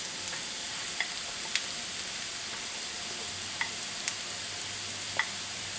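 Onions frying in a pan with crispy hash browns, a steady soft hiss with a few faint stirring clicks and no talk.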